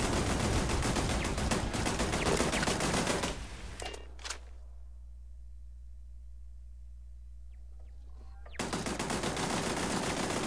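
Turret gunfire in the video game Starfield, dense loud rapid firing for several seconds, breaking off into a quiet hum, then resuming abruptly near the end, with no voices.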